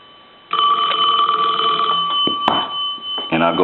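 A Western Electric Princess telephone's bell rings loud and close in one sustained burst, then breaks off into a few clunks and a short rattle.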